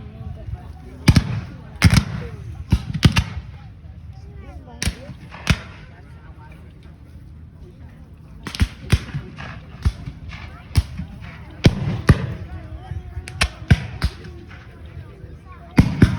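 Musket fire at a Civil War reenactment in Hartford City, with sharp, loud reports in irregular clusters and single shots, some overlapping into ragged volleys, heard over faint voices in the open air.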